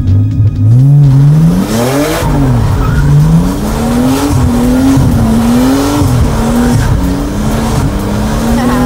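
A car engine revs hard and wavers continuously as tires squeal through a drift, loud and close, with no talking.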